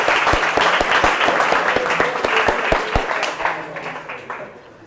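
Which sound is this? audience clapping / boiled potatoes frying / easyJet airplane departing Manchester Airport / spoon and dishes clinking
audience clapping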